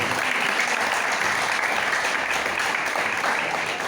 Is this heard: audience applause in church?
yes